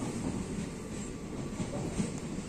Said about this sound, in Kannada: ನೋಡ್ರಿ ಇದೇ ನಮ್ಮ ಟ್ರೈನ್.